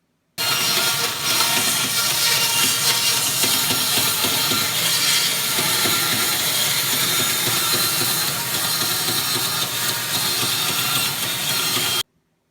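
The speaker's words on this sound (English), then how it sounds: "I took the boards and cut the curve on the end of each board on my bandsaw" A bandsaw cuts curved ends on wooden boards, giving a loud, steady mechanical whine and rasp that runs unbroken for about twelve seconds, with no talking.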